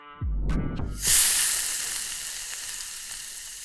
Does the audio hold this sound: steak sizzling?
yes